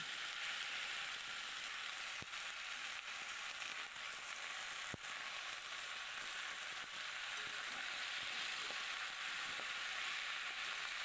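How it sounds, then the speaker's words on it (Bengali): Fresh spinach sizzles steadily in a hot frying pan with fish and boiled potato, a continuous bright hiss broken by occasional stirring clicks, close and without talk. "পালন শাকটা দিয়ে একটু নেড়ে নিতে হবে"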